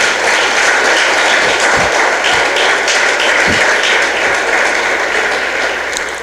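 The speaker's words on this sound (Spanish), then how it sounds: "Denle un fuerte aplauso al Señor" A church congregation applauds during a service, a dense, loud, unbroken wash of clapping that carries steadily to the end with a few sharper knocks underneath.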